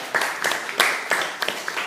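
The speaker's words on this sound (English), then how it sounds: "Let's give them a little round of applause" Small audience giving a short, scattered round of applause, a few uneven claps close by in a quiet room.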